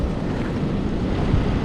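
Ocean surf on the shore at Fraser Island, a steady broadband wash of waves with wind buffeting the microphone, continuous and fairly loud throughout with no talk.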